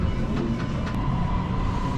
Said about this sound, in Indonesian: Ini adalah MRT Malaysia. Saya naik dari Bukit Bintang.